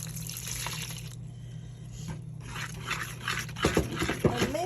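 Water pours and splashes steadily into a mixing bowl for bread dough, with a bubbling, rising trickle toward the end and faint scraping underneath.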